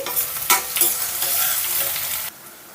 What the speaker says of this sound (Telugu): సన్నగా తరిగిన ఒక ఉల్లిపాయ నాలుగు పచ్చిమిర్చి చీలికలను కూడా వేస్తున్నాను ఇప్పుడు వీటిని ఒక నిమిషం పాటు దోరగా వేయించుకుందామండి